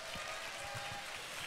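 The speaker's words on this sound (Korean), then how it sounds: "우리 멋진 뮤지컬을 준비해준 웹스 친구들에게 다시 한번 큰 박수 부탁드립니다" Faint, steady applause from a church congregation after a children's Christmas Eve musical, a continuous patter of many hands heard from a distance.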